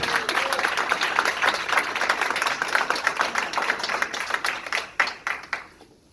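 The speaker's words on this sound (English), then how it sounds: "another big round of applause" A room of attendees at a corporate sales training event gives a round of applause, dense steady clapping that breaks into scattered individual claps before dying out.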